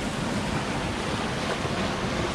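A small river with little waterfalls runs just behind a hotel near Lake Placid, making a dense, steady rushing wash that fills the whole clip at moderate loudness.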